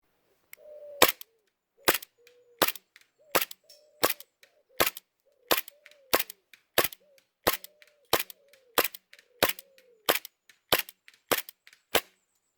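Roughly fifteen sharp, loud shots from an ASG Beretta M9 Heavy Weight airsoft pistol ring out alone at a steady pace, each crack followed by a brief mechanical clack.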